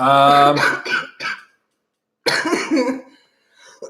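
A loud, hoarse fit of coughing up close, a brief silence, then another harsh cough burst trailing off into a faint rasp.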